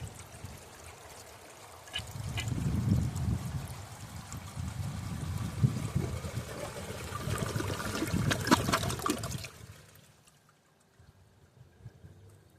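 A 2004 Kohler Kathryn toilet flushes with a strong rushing swirl of water lasting several seconds, then drains and trickles softly as the tank refills nearby.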